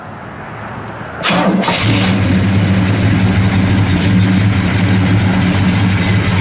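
A 1970 Pontiac GTO engine with headers and dual exhaust cranks and fires up at once, then settles into a loud, steady, rumbling idle with a deep low-end drone.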